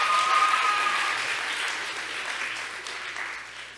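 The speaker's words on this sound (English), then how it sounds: "Let's give her another round of applause." Applause fills a middle school award chapel for an award winner, with full, even clapping from a large audience that tapers slightly over a few seconds.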